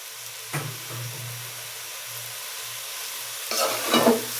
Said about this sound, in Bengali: এটা হচ্ছে ভাজা ভাজা হওয়া অবধি পর্যন্ত খুব নাড়তে হবে।